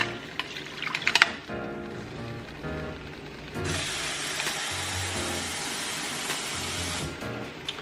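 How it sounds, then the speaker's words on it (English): Water pours into a pot in a home kitchen while a loaded BBQ baked potato dish is prepared, a steady broadband rushing stream lasting several seconds after some brief clatter and rinsing noises, close and moderately loud. "Okay, so we're adding in our water."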